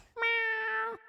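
A cat meows once in the video game Mewgenics, a single drawn-out, clear tonal cry lasting just under a second, close and loud with nothing else around it.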